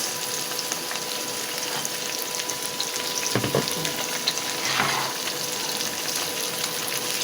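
Tomatoes hit a hot pan of onion and garlic and sizzle steadily, with a brief clatter of stirring and a louder hiss midway, close and continuous.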